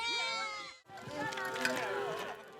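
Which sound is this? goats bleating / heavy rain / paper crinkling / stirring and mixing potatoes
goats bleating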